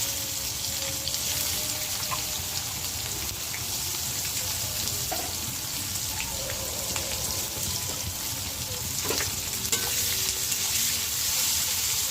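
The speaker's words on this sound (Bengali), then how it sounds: "এখানে পেঁয়াজটা ভাজা হচ্ছে" Chopped onion fries in oil with bay leaf, whole garam masala and whole cumin, giving a continuous, even sizzle at moderate loudness with no pauses.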